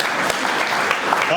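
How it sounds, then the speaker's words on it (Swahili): Brief burst of audience clapping at an album launch ceremony, dense and close, with a voice speaking over it for the whole moment. "pigia kwa Kabarasi makofi"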